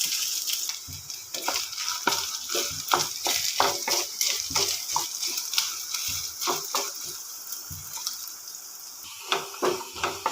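Small coconut pieces fry in hot ghee in a pan for Onam unniyappam, giving a continuous close sizzle broken by frequent crisp pops and the scrape of stirring throughout, with no talking.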